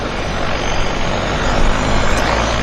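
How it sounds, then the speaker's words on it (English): A de Havilland Canada floatplane's engine roars steadily and loudly as it pulls away from the dock at Vancouver Harbour's floatplane base, a dense, unbroken drone with no talk. "we've got a de Havilland, Canada pulling off dock right there"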